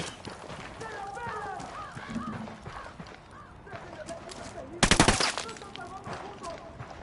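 Video game gunfire on a PS4 battlefield: a short, loud burst of rapid automatic shots stands out near the middle, while voices and game ambience carry on around it.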